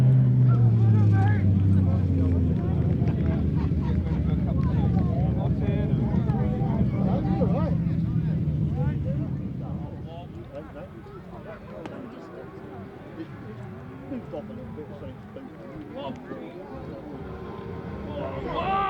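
1000cc grasstrack sidecar racing engines roar loudly at a Champion of Champions meeting, a dense droning blare for about nine seconds before fading to a distant hum, with a commentator talking throughout.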